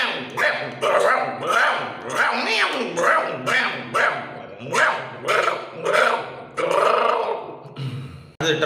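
A man mimics animal calls, running through a duck's quack, a hen's cluck and a dog's barking in a rapid series of loud, close, rhythmic vocal bursts with no other sound.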